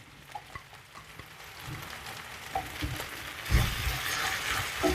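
Green chillies hit a pan of frying onion, ginger-garlic paste and tomato for a brinjal curry, giving a soft, steady sizzle with scattered stirring clicks that grows louder and busier near the end.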